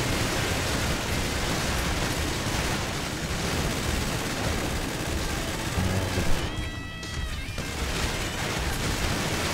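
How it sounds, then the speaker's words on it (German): Gunfire in the GTA 5 Online video game: dense continuous automatic firing in rapid bursts, loud and harsh across the whole stretch with a brief pause partway through, no talking. "Wir schießen ja ab"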